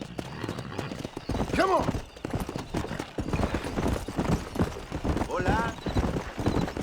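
Hooves of a ridden horse clip-clop steadily and close by while people shout and call out over them, with a horse's whinny rising briefly in the middle.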